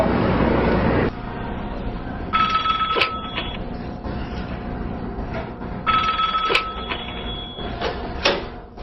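A telephone rings in repeated bursts of bright, trilling bell tones, separated by short pauses, over a faint background hum.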